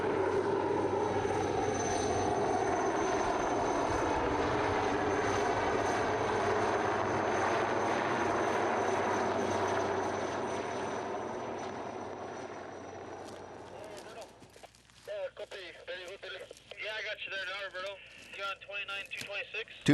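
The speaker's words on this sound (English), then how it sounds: "It's picked from the helicopter down to the spot" Helicopter rotor and engine drone steadily and loudly overhead during a seismic survey drilling job in the wilderness, fading after about fourteen seconds as voices take over.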